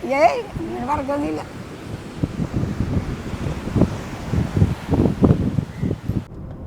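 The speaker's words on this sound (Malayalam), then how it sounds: "കാറ്റുകൊണ്ട് പറന്നു പോവല്ല" Strong, steady wind roars across the microphone on a beach near the sea, a continuous rushing buffet with surf in the background; a few brief voiced sounds come at the start.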